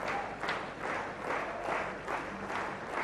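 A cricket stadium crowd at a Test match applauds in distant, swelling waves of clapping, moderately faint, with no one speaking over it.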